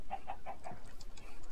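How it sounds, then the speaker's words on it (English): Short clucks from a chicken in the block-building game Minecraft, four quick evenly spaced calls near the start and fainter ones after, over a steady low background hum. "Hey, chicken."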